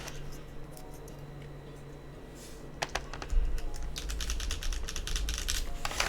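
Mechanical keyboard switches on a GDK Labs NV70 board are tested by typing with no keycaps fitted: bursts of close, crisp clacking keystrokes follow a quieter stretch, and nobody speaks.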